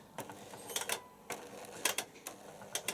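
A Bosch Silence WFS4300 washing machine after start is pressed, giving off faint, irregular clicks and mechanical ticks against a quiet background.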